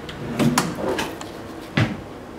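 Kitchen drawers in a studio apartment being opened and closed, a few short wooden knocks and slides spaced over a couple of seconds, close by and moderately loud, with no talking.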